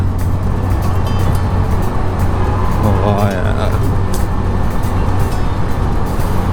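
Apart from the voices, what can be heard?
motorcycle engine echoing in tunnel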